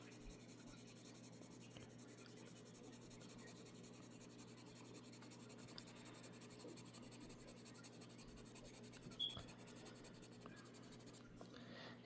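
Graphite pencil shading on paper gives a faint, steady, scratchy rubbing that runs continuously through the clip with no one speaking.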